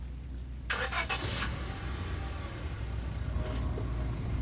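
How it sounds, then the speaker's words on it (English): In the Scarlet Hollow video game, a car starts up with a short cranking burst, then settles into a steady low engine rumble as it drives along a darkened road, fairly quiet and with no talking. "the car cuts along the darkened road"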